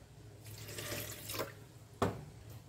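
Quiet water pouring into a container of fish-ball mixture with white pepper and salt, in a short stream, with a faint splash and a soft clink near the end.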